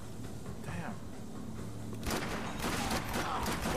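Gunfire in the video game Max Payne 3, bursts of shots breaking out partway through over a constant background hum, with a voice faintly present.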